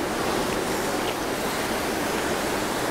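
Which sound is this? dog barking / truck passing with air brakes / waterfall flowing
waterfall flowing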